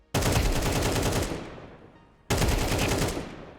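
Two long bursts of automatic gunfire sprayed in Counter-Strike 2, loud and close, the first running over a second before cutting off and the second starting after a short gap, with no talking.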